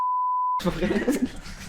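A single steady high-pitched beep lasting about half a second, then muffled voices talking.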